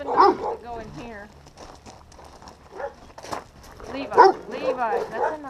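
Dogs in a kennel building give scattered barks and whimpers, some loud and close, mixed in with people talking nearby.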